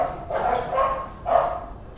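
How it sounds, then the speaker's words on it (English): Dogs in a workshop, fighting a rat, let out two loud, close barks about a second apart, with a short yip and a whimper between them and no talking. "It's Charlie the Shop Dog fighting with a rat."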